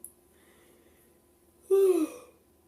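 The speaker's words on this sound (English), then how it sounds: "Oh, this is not the right time to yawn." A single brief human yawn with a breathy, falling voiced tone lasts about half a second after near silence.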